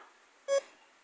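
A single short electronic beep from a DCH 85 metal detector, clear and alone against a quiet background.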